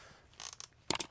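A 3/8 ratchet working on the bolts of a RAM 1500 5.7 HEMI engine, two quick faint bursts of clicking close by.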